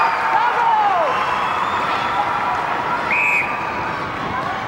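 An umpire's whistle at a 1994 national netball grand final sounds over steady crowd noise and a commentator's voice, with a short sharp blast late in the moment.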